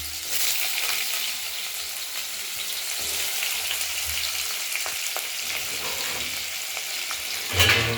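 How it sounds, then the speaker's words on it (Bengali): Potatoes fry with a tempering of bay leaf, dried red chilli and cumin, giving a loud, continuous sizzle and crackle with occasional scraping stirs and a sharper clatter near the end. No one speaks. "ফোড়নের সঙ্গে নাড়াচাড়া করে আলুটা আমরা ভেজে নেবো"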